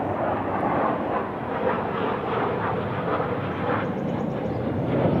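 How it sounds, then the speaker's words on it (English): A jet aircraft passes overhead near Puteri Harbour, a steady broad roar that holds level for several seconds with no voices over it. "Another jet."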